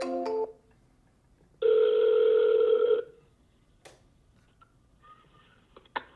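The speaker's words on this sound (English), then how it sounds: "let's start dialing this guy." A telephone call rings out before going to voicemail: a short burst of dialing tones, then a single sustained ring tone of about a second and a half, followed by quiet with faint clicks.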